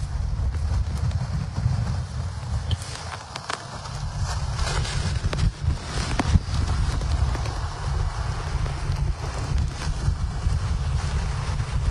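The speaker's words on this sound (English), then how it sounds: "Oh, big gust of wind." Strong wind gusts buffet a lake pier on Lake Erie at Dunkirk in a winter windstorm, a loud steady roar with rushing surges and heavy low rumble from wind hitting the microphone, continuous through the whole stretch.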